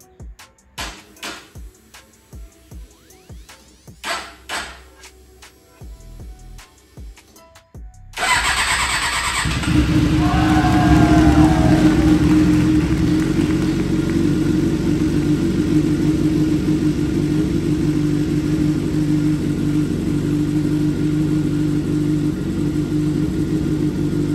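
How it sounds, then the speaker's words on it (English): A 2007 Suzuki GSX-R 750 motorcycle, rebuilt after a wreck, cranks over a few times, catches and settles into a loud, steady idle that rumbles on alone close to the microphone. "the bike is idling very nicely"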